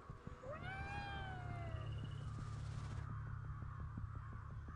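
A cat in the game Ghostwire: Tokyo gives a drawn-out rising and falling meow over a steady low hum and faint ambient game noise, followed by soft rhythmic ticking.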